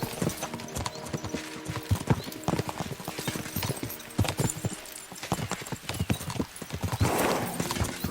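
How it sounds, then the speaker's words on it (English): Horses' hooves clip-clop steadily in Kingdom Come: Deliverance II, a busy irregular patter of several horses close by with a brief whinny near the end. "We should spur the horses on!"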